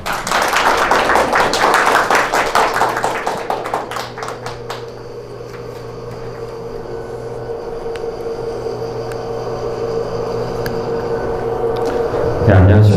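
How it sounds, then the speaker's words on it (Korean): Audience applause welcoming a speaker at an academic colloquium at Chonnam National University, South Korea, rings out for several seconds, then fades into a low steady room hum. "박수로 맞이하겠습니다"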